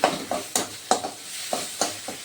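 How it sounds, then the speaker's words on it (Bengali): Spices fry in oil in a pan and are stirred with a spoon for a banana-stem and prawn kofta curry, giving a steady sizzle under about seven quick scraping strokes, close and fairly loud. "মশলাগুলো প্রায় ভাজা হয়ে গেছে, এই দেখো তেল ছেড়ে দিয়েছে"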